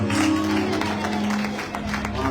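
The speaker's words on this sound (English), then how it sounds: "Clap for the Lord." Congregation clapping during worship at a pastor's ordination, continuous rhythmic hand claps blended with crowd noise and a low sustained musical hum.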